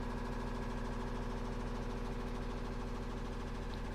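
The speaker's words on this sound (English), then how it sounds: "What you're hearing is just the air compressor right now, filling all the bags up with air." An air compressor on a Freightliner M2 SportChassis truck fills the air bags with a steady, even mechanical hum and a low rhythmic throb, close and constant throughout with no talk.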